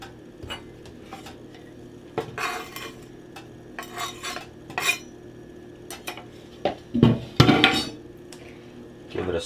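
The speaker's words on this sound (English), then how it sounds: "Give it a stir." A spoon stirs a pot of frijoles a la charra with cilantro, giving irregular clinks, scrapes and knocks against the pot, close and fairly clear over a quiet background, with no talking.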